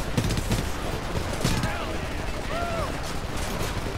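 Machine gun fire from the video game Homefront crackles in dense rapid bursts, loud and close, with overlapping shots and battle noise throughout.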